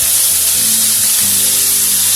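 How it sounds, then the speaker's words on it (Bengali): Fresh spinach dropped into hot oil in a kadai over fried whole spices and asafoetida gives a loud, steady sizzle with broadband hiss and a low hum underneath, alone without voices. "ফোড়নটা ভাজা হয়ে গেছে, এবার আমি শাকটা দিয়ে দিচ্ছি।"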